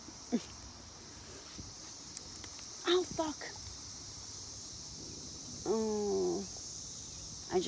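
Cicadas buzz at sunset on a hilltop: a steady, high insect drone runs throughout, with a few short voice sounds and scattered taps and rustles nearby.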